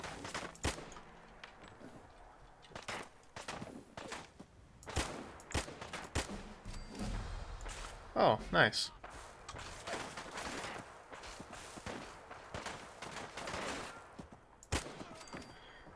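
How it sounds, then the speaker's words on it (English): Enemy gunfire in a video game, with rapid shots cracking in irregular bursts and clusters throughout, fairly close and sharp, and a brief spoken remark partway through. "I'm sort of just standing and letting him shoot me"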